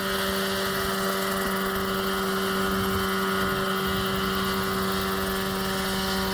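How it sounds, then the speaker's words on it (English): A homemade Mirocopter SCH-2A single-seat helicopter, with its rotor spinning up for lift-off. It gives a steady, loud whirring drone with a strong sustained engine hum that holds throughout and has no pauses. "The rotor blades gradually speed up, and moments later, the aircraft lifts into the air."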